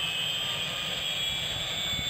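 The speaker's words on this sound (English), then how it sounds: "I'm using a helicopter." Helicopter flying in the Farming Simulator 17 video game, a steady engine and rotor drone with a high whine that holds evenly and loudly throughout, no voices.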